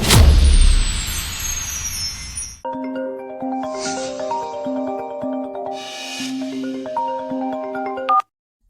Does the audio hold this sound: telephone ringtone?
yes